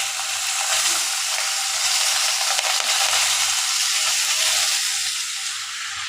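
Cooked rice stirred into hot spiced oil in a pan for fried rice, giving a steady close sizzle with a faint low hum underneath throughout.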